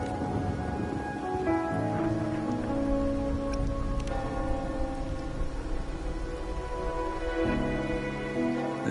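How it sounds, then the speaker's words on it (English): Steady rain falls in the video game Wuthering Waves, a continuous soft hiss of drops on surfaces filling the whole stretch, with a low layered musical drone underneath. "Or are you simply passing the time until the rain ends?"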